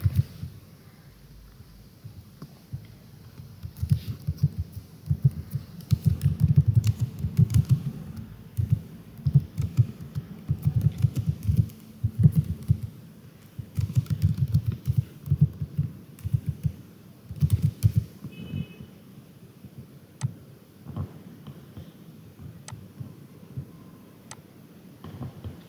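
Typing on a computer keyboard while entering text in a Word document: steady, close clicking keystrokes in uneven bursts with short pauses, heard alone without talk.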